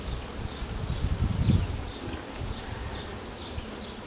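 Honey bees buzz steadily around an open hive during an inspection, a close, continuous droning hum that swells briefly near the middle.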